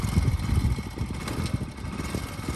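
A motorcycle engine runs close by, rumbling with a choppy, uneven revving as the throttle is worked, loud and steady with no talk over it.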